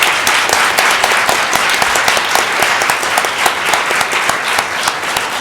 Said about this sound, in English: give one round of applause for all of our wonderful speakers tonight